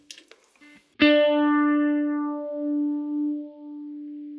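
Electric guitar played through a Phase 90 phaser profile on a Kemper Profiler: a single sustained note is picked after a few muted taps and rings out with a slow, swelling wow-like sweep, close and alone.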